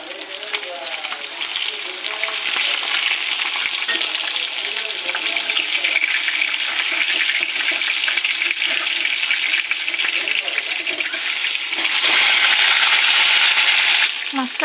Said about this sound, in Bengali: মাছটা ভাজা হয়ে গেছে, এবার তুলে নেব।